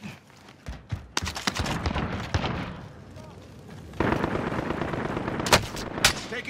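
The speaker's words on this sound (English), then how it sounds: "Shots." Gunfire in a rooftop shooter video game, including a Mac-10, cracks out in sharp bursts and single shots, some loud and close, others quieter, over a busy background of game noise.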